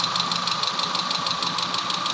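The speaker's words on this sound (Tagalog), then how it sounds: "umaandar itong makina." A 2013 Chevrolet Aveo engine, previously suffering a no-start fault, runs at a steady idle with an even mechanical whir and light ticking, close and loud, with no talking over it.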